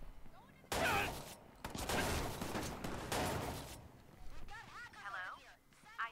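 Shotgun blasts ring out in Watch Dogs 2 co-op gameplay, a few loud booming bursts close together, followed by quieter game noise.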